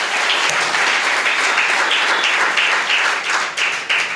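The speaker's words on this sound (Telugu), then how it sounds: "చప్పట్లు కొట్టండి ఒకసారి." A church congregation at a Telugu Christian sermon breaks into sustained, loud, dense clapping that stays even for several seconds before thinning slightly at the end.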